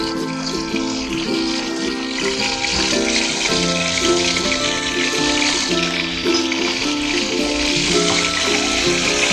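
Fish sizzles and crackles steadily in hot oil, pan-fried before going into a squash and lemongrass soup, a close, continuous frying hiss with faint clinks underneath.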